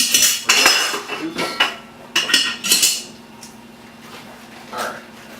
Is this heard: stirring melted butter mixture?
yes